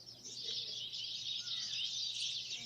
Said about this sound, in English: The chirping